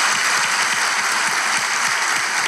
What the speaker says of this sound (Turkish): Hadi coşkun alkış devam edelim.